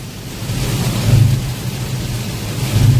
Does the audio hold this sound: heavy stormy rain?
yes